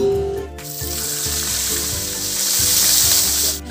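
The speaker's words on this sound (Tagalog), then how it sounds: "habang nagpiprito tayo ng isda" Fish frying in a pan for sarciadong bisugo, a loud continuous sizzle and crackle of hot oil filling the clip, with a faint steady tonal hum underneath and no voices.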